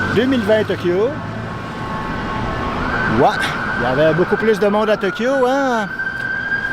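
An ambulance siren wails on a busy downtown Montréal street along Boulevard René-Lévesque, its rising and falling tone loud and close as it passes, with people talking over the siren and traffic.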